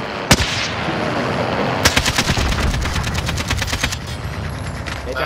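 Gunfire in Call of Duty: Warzone: a single sharp shot, then a rapid automatic burst of closely spaced loud shots lasting a couple of seconds, over steady game background noise.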